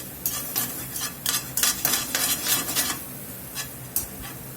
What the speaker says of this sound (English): Let's just let all this cook here together for a few minutes.